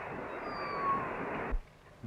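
A cat gives a long, drawn-out meow, fairly close and clear, that cuts off abruptly, leaving near silence with a faint small sound afterward.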